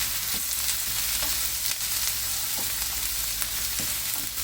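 Garlic and three green chillies stirred in a pan, producing a dense, bright sizzle with periodic utensil scrapes and taps, close and fairly loud, with no talking.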